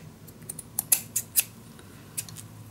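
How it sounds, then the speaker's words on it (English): Scissors snipping paper for a boxed mini album and junk journal, a handful of quick crisp close cuts in an irregular rhythm over a quiet background, with no talking. "I'm first going to cut this in four."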